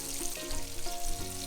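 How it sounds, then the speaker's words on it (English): Battered pork chops fry steadily in a pan, giving a continuous close sizzle and crackle with small spits, left alone and undisturbed throughout. "And you can let it fry without messing with it"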